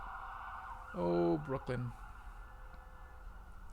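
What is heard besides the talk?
emergency vehicle sirens passing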